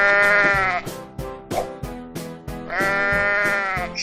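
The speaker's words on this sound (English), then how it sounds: "sheep" A sheep bleats loudly and close by in a series of long, wavering calls broken by short pauses, with no other sounds.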